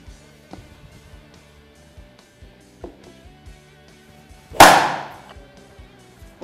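A golf club strikes a golf ball once, a sharp loud crack standing out partway through against a quiet background with faint intermittent knocks and rustles.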